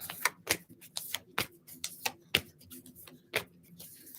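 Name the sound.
shuffling cards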